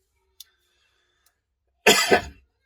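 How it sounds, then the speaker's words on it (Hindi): A single throaty cough comes after near silence, close and fairly loud, from a man with a sore throat. "खांसी है, गला ठीक नहीं है"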